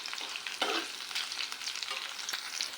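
Vegetables crackling and sizzling in a frying pan with brief stirring scrapes, steady and close, no voices.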